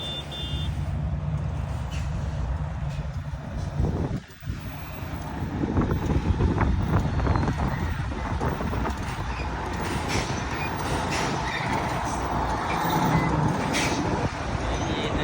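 A new Volvo FH truck with an aftermarket exhaust roars loudly up close, a deep, rumbling engine drone that dips briefly and then swells again, with faint voices in the background.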